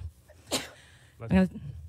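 A single short sneeze bursts out during a city forensic audit presentation in a meeting room, followed a moment later by a brief spoken response, the room otherwise quiet.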